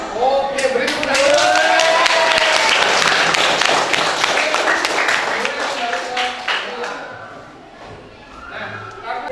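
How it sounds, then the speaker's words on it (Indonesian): Classroom applause from students during an Islamic religious education lesson, a dense burst of clapping mixed with children's shouts and chatter that swells early then thins out, with voices continuing throughout. "Oke, beri tepuk tangan."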